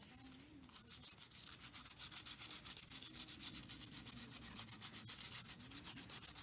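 Sandpaper scrubs a Rusi 150 motorcycle clutch lever in quiet, close, rhythmic back-and-forth strokes that repeat evenly throughout.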